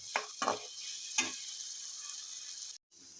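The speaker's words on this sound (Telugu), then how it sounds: "బాగా క్రిస్పీ అయ్యేదాకా వేపుకోవాలి ఇవి." Potatoes for aloo fry sizzling in a pan over a medium flame, a steady bright hiss with a few sharp stirring scrapes early on, then a brief silent break before the sizzle resumes.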